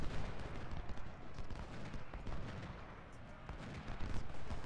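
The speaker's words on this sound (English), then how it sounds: "despite the fact that we're taking artillery fire" Rolling artillery fire and scattered musket volleys from a Civil War battle at Manassas Depot in a strategy game, a dense, continuous rumble of booms and cracks with no clear pauses.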